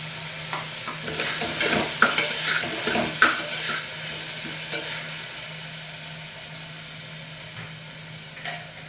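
Curry leaves, ginger and green chillies frying in oil for a puri curry, a soft steady sizzle broken by several stirring scrapes and clinks of a spoon against the pan, no talk.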